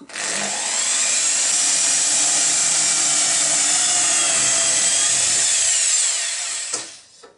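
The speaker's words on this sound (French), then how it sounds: "On va commencer par percer les trous pour mettre l'axe qui va tenir le mât. Donc je prends une mèche de 3 mm." A drill with a 3 mm bit bores holes for the mast pin of a toy pond sailboat, giving a steady, close, high-pitched whine that runs unbroken for about six seconds and then winds down.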